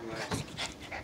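A pet dog pants and whimpers in quick, excited bursts, close to the microphone, with a person's voice talking over it.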